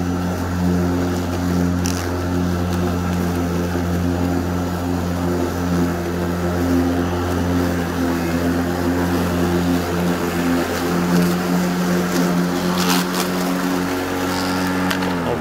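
EGO 56V Select Cut battery-powered electric lawn mower starts and runs with a constant, even motor whir and blade hum, loud and steady for the whole stretch, with no talk.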